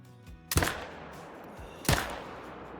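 Two heavy hunting rifle shots fired at a buck in the hunting game Call of the Wild, each a loud, sharp crack with a long fading echo, about 1.3 seconds apart, with no talking.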